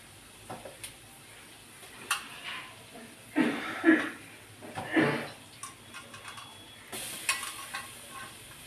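Okra being tipped into a simmering tamarind stew (pulusu) while cooking, heard as a few soft splashing, stirring bursts over a quiet background with faint clinks.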